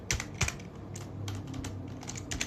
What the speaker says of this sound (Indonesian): kita bisa ketik ipconfig seperti ini untuk melihat